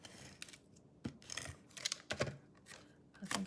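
Scissors snipping through fabric pieces, a series of quiet close crisp cuts in irregular bursts with short pauses between them.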